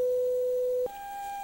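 Steady pure sine-wave tone from a sound and frequency demonstration that abruptly jumps to a higher pitch partway through, then holds the new tone; loud and clean with a faint click at the switch.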